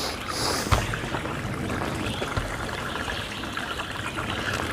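Small stream flowing beneath a footbridge along the Appalachian Trail, a steady close rushing and trickling of water with a brief knock or footstep partway through, no voices.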